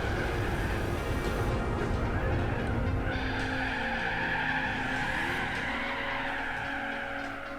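A car spins out in Gran Turismo 4 with a long, loud tire skid and squeal over the racing engine note, the screech shifting pitch as the car slides and rotates.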